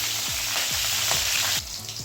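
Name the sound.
whole spices and halved green chillies frying in oil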